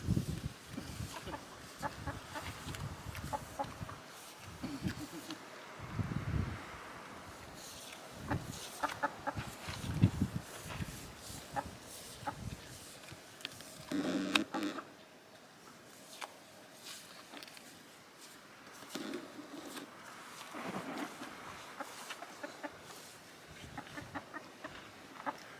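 Chickens cluck repeatedly on a hot Portuguese homestead, with scattered, irregular clucks and scratching noises at moderate distance over background farm activity.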